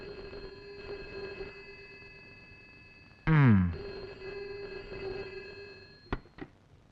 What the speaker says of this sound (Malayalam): അവനാ ഫോൺ ചെയ്യുന്നത്.